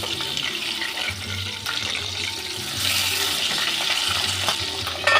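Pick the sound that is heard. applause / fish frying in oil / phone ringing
fish frying in oil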